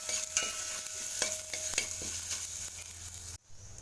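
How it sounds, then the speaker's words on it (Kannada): Chana dal masala stuffing for paratha sautéing in oil in a pan, a steady close sizzle broken by repeated scraping stirs of a spatula, then a sudden drop near the end. "ಸ್ವಲ್ಪ ಎಣ್ಣೆ ಹಾಕಿ ಬಾಡಿಸ್ಕೊಳ್ಳೋಣ"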